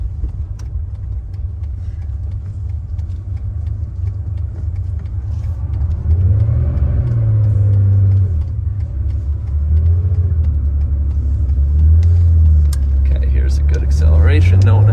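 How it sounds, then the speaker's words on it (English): A 1977 Porsche 911S Targa on the road gives a loud, close engine rumble that climbs in pitch through several rev rises as it accelerates, and a voice talks over it. "So satisfying to get it up on the revs."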